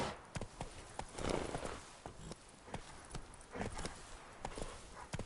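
Horse hooves clip-clop in a quick, regular rhythm across dirt in the Witcher 3 game world, close and fairly quiet, with no other sounds beyond faint ambient noise.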